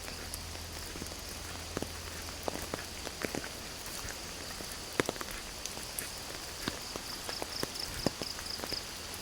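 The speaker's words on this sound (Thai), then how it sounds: "เช้าเช้าที่วัดฝนตก" Morning rain falling steadily at a temple, a soft, even hiss with scattered louder drips and taps landing close by.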